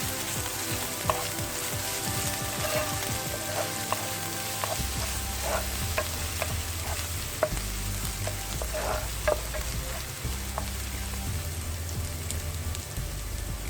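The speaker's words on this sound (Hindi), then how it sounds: "अब इसमें डालें 1 टेबलस्पून अदरक लहसुन चॉप किया हुआ। इसको अच्छी तरह से भुनें।" Steady sizzling of chopped ginger and garlic frying in a hot pan for dal mash, with a few soft stirring clicks, close and continuous with no talking.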